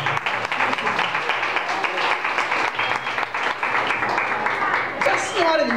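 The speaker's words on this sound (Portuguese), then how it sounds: "Aplauda Jesus, irmão." Congregation applause during a church service, a busy crowd of clapping hands with rhythmic pulses in it, steady and fairly loud, with voices rising over it toward the end.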